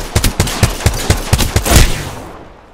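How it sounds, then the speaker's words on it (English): A close, loud burst of automatic gunfire in Apex Legends, about a dozen rapid evenly spaced shots that blur into a final roll before fading away. "Shots fired."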